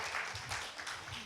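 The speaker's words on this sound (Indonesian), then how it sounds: "Tepuk tangannya dulu." A church congregation claps their hands during a service, producing a brief, faint, continuous wash of applause with a voice faintly present.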